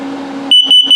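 Carbon monoxide detector in a 2022 Starcraft Super Lite MAXX 18RBS travel trailer running its test: a steady hum gives way to three loud, piercing beeps with short gaps between them.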